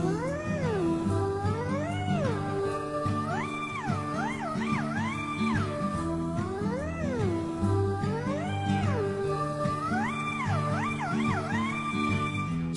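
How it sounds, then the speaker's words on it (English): A black cat's meows, rising and falling repeatedly in a playful Halloween tune, sound over steady, busy music, with no talk. "Oh no, it's a black cat."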